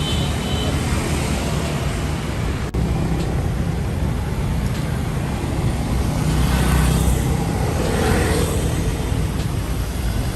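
A car drives past amid dense road traffic, a continuous broadband roar of tires and engines at moderate distance with no break.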